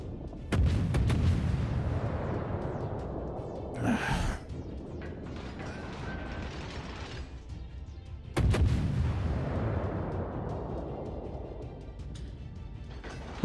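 Artillery rounds landing in a video game, two heavy booming blasts several seconds apart, each followed by a long rumbling decay, with a brief breathy sound between them and no talk.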